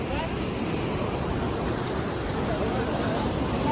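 The Mandakini river rushes beside the Tapkund bathing pool at Gaurikund, a close, steady roar of flowing water that fills the whole stretch, with a voice faintly beneath it.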